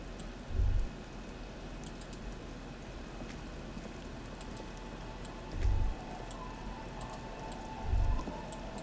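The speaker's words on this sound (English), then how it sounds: "It's getting late, and it's raining." Steady rain ambience from the video game Disco Elysium, a dense continuous hiss with three soft low thumps spaced through it, no voices.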